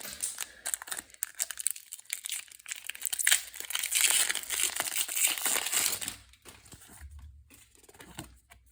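Plastic wrapping on Pokémon TCG Paldea Evolved booster packs crinkles and crackles up close as blunt children's scissors cut it open. The rustling rises to a dense crackle midway, then settles into a few softer handling sounds.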